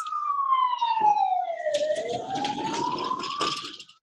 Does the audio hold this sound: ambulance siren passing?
yes